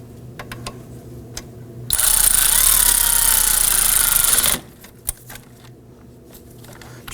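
A power tool runs loud and steady for about two and a half seconds while snugging down bolts on the ABS wire of a 2005-2009 Subaru Legacy front steering knuckle. Quieter workshop clatter comes before and after the burst.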